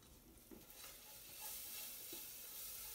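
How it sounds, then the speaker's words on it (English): Ramps cook with about a tablespoon of salt in a pan, giving a faint, steady sizzle with light stirring scrapes, and no talk. "I can hear them start to sizzle"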